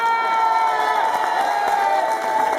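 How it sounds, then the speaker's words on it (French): Crowd at a French amateur football club trophy ceremony clapping and cheering, a steady, dense wash of applause and whoops filling the room, loud and continuous without a break. "vous pouvez l'applaudir bien fort"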